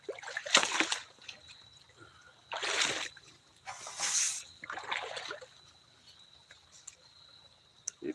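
A small gold pan being swirled in water at a placer gold mining spot, giving four bursts of sloshing and splashing water with short pauses between them, over quiet outdoor background.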